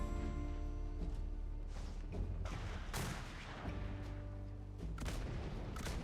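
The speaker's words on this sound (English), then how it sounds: "Those mortars should be hitting perfect now." Mortar fire during ship combat in a space combat game, with repeated heavy booming blasts spaced a second or so apart over a constant low engine drone, fairly faint overall.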